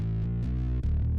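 Overdriven synth bass line played on an MX61 keyboard, loud and continuous, with thick, gritty sustained notes that shift pitch in a steady riff and never drop out.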